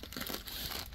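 Plastic bag from a diamond painting kit being handled, giving a loud, continuous close-up crinkling and rustling for about a second, with no voices.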